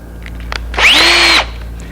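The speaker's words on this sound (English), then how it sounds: "I simply drill it." A power drill bores a hole through wood in a woodworking shop while building a hanging cupboard: one short, loud, close whine that rises quickly and holds for about half a second before cutting off.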